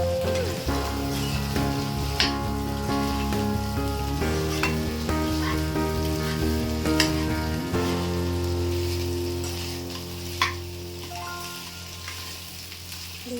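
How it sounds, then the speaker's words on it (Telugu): Country chicken coated in masala fries in oil, a steady loud sizzle with occasional stirring clinks and scrapes, no talk over it. "ఈ మసాలా అంతా ముక్కకి పట్టేలాగా ఆయిల్లో ఫ్రై చేసుకోవాలి."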